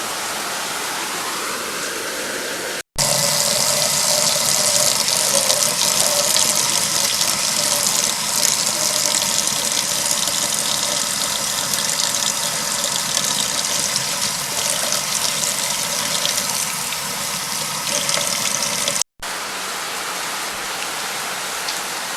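Water runs steadily from a kitchen tap while a cup of rice is rinsed for a quick honey garlic salmon dinner, a loud, constant gush lasting about sixteen seconds between quieter stretches.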